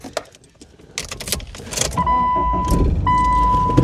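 A manual Subaru Outback starts up in snow: clicks and a clunk give way to an engine rumble that rises and holds, while a steady electronic chime sounds twice from inside the car, close and loud.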